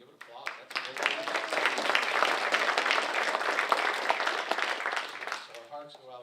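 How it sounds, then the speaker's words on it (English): Applause from the audience at a San Bernardino County Board of Supervisors meeting: dense, steady clapping that fills the room for several seconds, then thins as a voice starts speaking near the end. "Yeah, you can give it applause."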